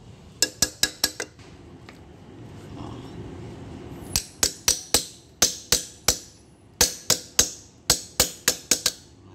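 Sharp metallic hammer strikes, a few quick blows, a pause, then a steady run of about fifteen ringing hits, close and loud.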